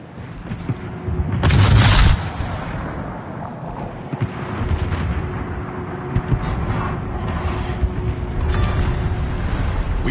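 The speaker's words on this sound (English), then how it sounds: "Concentrate fire on the enemy warship." Naval artillery in a video game fires on an enemy warship: a loud booming blast near two seconds, followed by rumbling, scattered thuds and continuous mechanical battle noise, with a steady tone running underneath.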